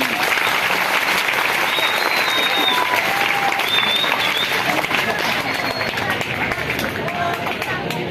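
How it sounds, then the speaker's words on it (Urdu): Loud, sustained audience applause at a farewell ceremony for a retiring teacher, a dense continuous roar of clapping with crowd babble and a few whistles over it. "تو ان کے لیے زوردار تالیاں"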